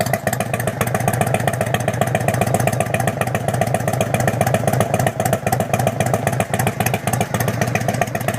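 A 1997 Harley-Davidson Road King idles with a steady, loud, low rumble and a rapid uneven clatter of firing pulses, close and continuous with no voices.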